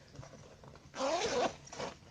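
A zipper on a fabric hip bag is pulled open in one quick, close rasping stroke, followed by a shorter tug, with no talking.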